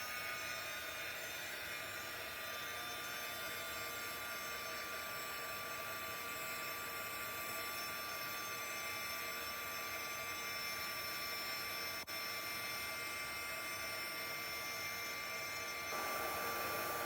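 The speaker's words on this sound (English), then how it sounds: "Pull over my heat gun." A heat gun blows hot air to set embossing powder on a Stampin' Up! stamped card, a steady, loud, close whooshing hiss that runs unbroken throughout and swells slightly near the end.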